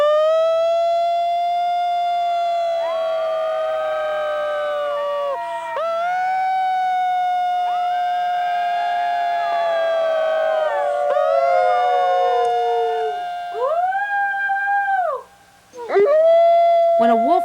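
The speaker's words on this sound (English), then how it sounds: "When a wolf howls, even in a captive pen, the wilderness comes to where you are." A captive wolf in an enclosure howls in long, sustained, wavering tones that rise and fall, with several overlapping voices joining in a chorus, loud and close, ending with shorter howls.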